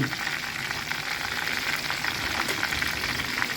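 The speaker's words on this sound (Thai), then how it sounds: "ยาก็ว่าจะทอดก่อนแล้วก็เดี๋ยวผัด" Snakehead fish fries in a pan of hot oil for a Thai basil stir-fry, giving a steady, dense, crackling sizzle with small pops throughout, close and continuous without speech.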